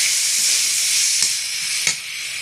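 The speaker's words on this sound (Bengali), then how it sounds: "দিয়ে আমি পেঁয়াজটা ভালো করে লাল লাল করে ভেজে নেব" Sliced onions frying in oil until browned, with a little salt, for hilsa pulao. A close, steady bright sizzle runs throughout, broken by two short clinks.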